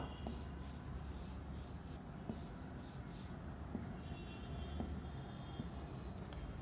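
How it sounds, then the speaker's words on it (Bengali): A pen scratches steadily across paper as an answer is written out, faint, close-up strokes with small taps, and no one speaks. "এবার আমরা উত্তরটি লিখে ফেলি।"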